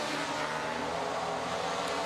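A rally car engine on a RallyX stage at Estering, a loud, sustained racing engine roar as the car drives the course, with no talk.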